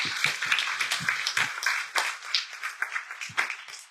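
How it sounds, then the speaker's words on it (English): Scattered, uneven hand claps come from an audience at a panel talk on adoption. The sharp claps are close and distinct rather than a dense ovation, and they continue loosely throughout. "we could probably do a little bigger clap for that"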